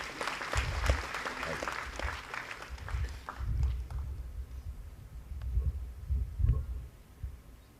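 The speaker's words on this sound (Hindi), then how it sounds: "एक बार तालियों से स्वागत हो।" Audience applause at a regional public administration conference in India, welcoming Union Minister Dr. Jitendra Singh to speak; a moderate, steady patter of clapping from a seated hall that swells and eases in waves, with a few voices over it.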